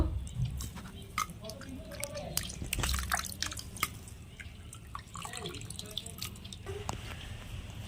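Water drips and trickles from boiled soybeans squeezed by hand in a kitchen, a string of close, irregular splashes and droplets with a faint rustle underneath.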